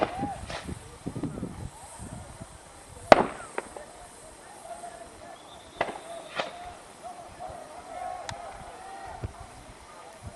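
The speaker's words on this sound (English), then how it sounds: "that's the sound of the tear gas shell" A sharp, loud pop of a tear gas shell being fired stands out from a noisy outdoor protest scene in Bil'in, followed by a few fainter distant bangs amid crowd murmur and movement.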